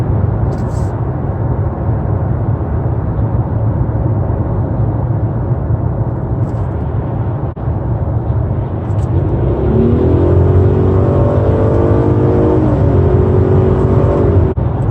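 The V6 engine of a Nissan Murano SUV builds as the vehicle accelerates, a steady interior drone with rising whine toward the end, heard from the cabin at moderate loudness without clear talk over it.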